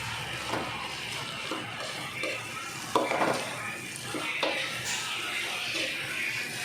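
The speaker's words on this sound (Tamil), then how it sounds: "ஒரு கிண்டு கிண்டிக்குங்க." Mashed potato kurma being stirred in a pan with a spoon, with scraping clinks and soft sizzling in repeated strokes.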